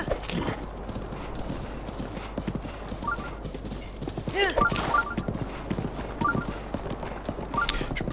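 A pink-maned horse in Zelda: Breath of the Wild hammers out a rapid, steady clip-clop of galloping hooves, with the occasional whinny, mixed under someone talking in French over game music.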